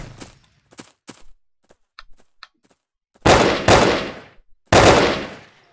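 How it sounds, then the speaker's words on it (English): Gunfire rings out in the video game Brick Force: scattered faint shots at first, then three loud, sharp bursts of rapid firing, each trailing off quickly. "I think they're shooting at me."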